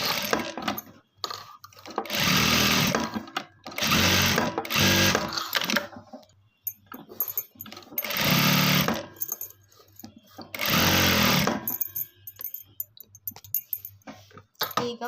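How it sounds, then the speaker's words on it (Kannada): A sewing machine stitches along the edges of a fabric lining in several loud bursts of rapid mechanical whirring. The bursts are separated by pauses filled with small clicks and handling of the cloth. "ಈಗ ಈ ಎಡ್ಜಸ್ಸಲ್ಲಿ ಲೈನಿಂಗ್ ಹೇಗಿದೆ ಹಾಗೇ ಸ್ಟಿಚ್ ಹಾಕೋತಾ ಹೋಗ್ಬೇಕು"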